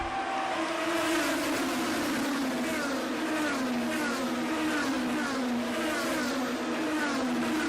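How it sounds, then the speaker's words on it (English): Race cars rip through downtown Long Beach street circuit, a continuous high engine whine with shifting pitch as cars pass, loud and unbroken. "enjoy these cars just ripping the downtown air"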